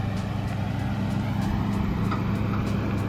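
A truck rumbles past nearby on a muddy roadside, a steady low engine drone at moderate level with a faint brief hiss partway through.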